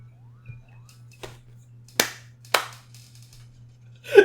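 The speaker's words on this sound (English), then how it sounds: "Do you hear how he clapped for himself when he told it?" One person clapping alone in a quiet room: a few scattered, isolated claps, two of them sharp and prominent, with fainter taps between and a low steady hum underneath.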